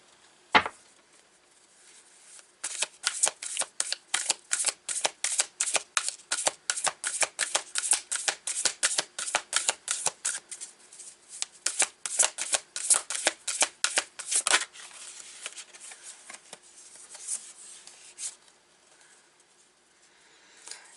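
A Sufi Tarot deck being shuffled close up: a rapid run of crisp card riffles and flicks lasting about twelve seconds, then slower, softer handling with a few scattered taps.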